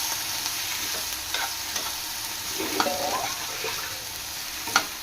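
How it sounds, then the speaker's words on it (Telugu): Cut brinjal pieces fry in oil with a steady, close hiss, stirred now and then with a few soft scrapes and a sharp knock near the end, and no voices. "ఈ విధంగా కట్ చేసుకొని వంకాయలు కూడా వేసుకొని ఇవి కూడా కొంచెం మగ్గేదాకా ఫ్రై చేసుకోవాలా"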